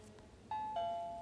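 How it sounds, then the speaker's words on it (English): A prank app plays a synthetic two-tone ding-dong doorbell chime, two clear electronic tones in quick succession over a quiet background. "Doorbell."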